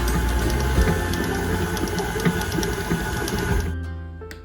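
Electric mixer beating orange creamsicle cookie dough, a loud close steady whirring drone with rhythmic clatter against the bowl, slowing and fading out near the end.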